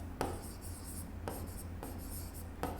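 Marker or chalk writing on a board during a maths lecture on sets, several quick scratchy strokes in short bursts, faint and close, over a low background hum.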